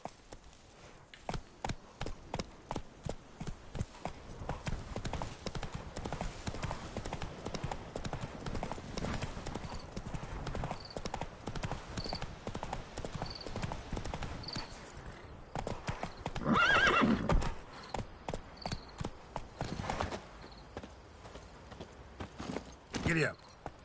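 Roach the horse gallops in The Witcher 3, its hoofbeats drumming in a fast, steady rhythm for the whole stretch, with a brief neigh breaking through near the end.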